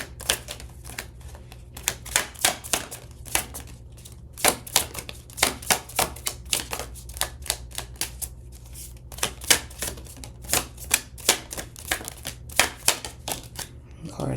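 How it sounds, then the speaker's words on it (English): Oracle cards are shuffled in rapid, uneven bursts of crisp riffling and flapping, close by, with a voice talking over them throughout. "Cards is just flipping and flopping, hopping and skipping."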